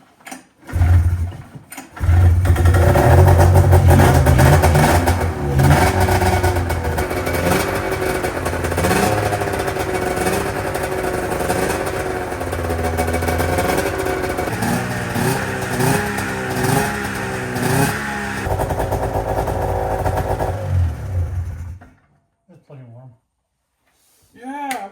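A rebuilt Ski-Doo ZR 440 engine fresh from a top end rebuild fires up and runs, loud and close, revving in rising and falling bursts with a steady idle drone beneath before it cuts off.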